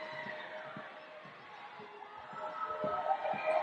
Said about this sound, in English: the crowd trying to distract him, make him miss